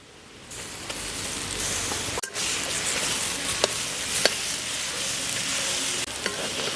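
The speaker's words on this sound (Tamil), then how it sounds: "பெரிய வெங்காயம் நல்லா பச்சை வாசனை போக வதக்கிக்கிறேன்" Sliced big onions sauté with ginger garlic paste in a pan, a steady broadband sizzle and hiss with occasional scrapes and clinks of a stirring spoon, close and continuous without talk.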